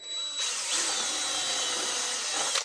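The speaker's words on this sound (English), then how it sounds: "I'll drill these, put screws in" A power drill runs in one continuous whining burst for a couple of seconds, close and fairly loud, then stops abruptly.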